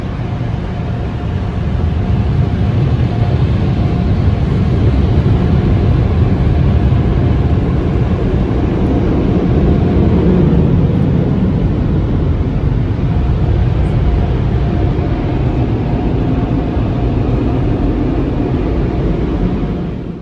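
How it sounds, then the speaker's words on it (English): Automated drive-thru car wash running around a car, with a steady, loud broadband roar of water jets and machinery continuous throughout, no talking. "I am inside the automated car wash"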